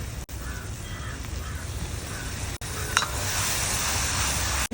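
Slit green chillies with crushed ginger and garlic sauté in a pan, giving a steady close sizzle with occasional stirring scrapes that grows louder and hissier near the end.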